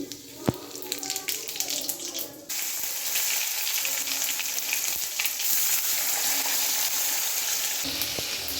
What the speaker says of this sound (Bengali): মাছের তেলে আলু আর মটরশুঁটি একটু ভেজে নিলাম।